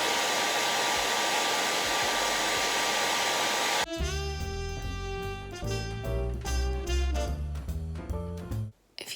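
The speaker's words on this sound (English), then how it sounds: "heat your eyelash curler using a hairdryer" A handheld hair dryer blows steady, loud broadband air to heat an eyelash curler for a few seconds, then cuts off abruptly as music takes over the rest of the clip.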